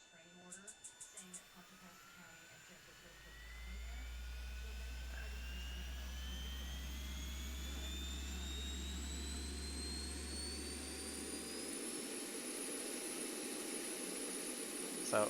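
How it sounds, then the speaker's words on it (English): Boeing 737-800 auxiliary power unit starting up and running, a small jet engine at the tail that spools up with rising whines and a deep steady rumble, preceded by a few brief clicks, loud and close throughout. "So it's like a little mini jet engine"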